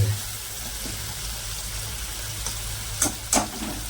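Tomatoes and carrots sautéing in a pan for pasta, a steady soft sizzle with a couple of brief sharp clinks of a utensil near the end, close and alone.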